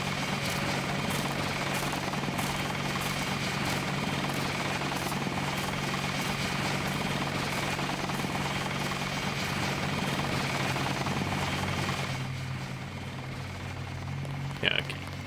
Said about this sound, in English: Look at the helicopter taking off, y'all.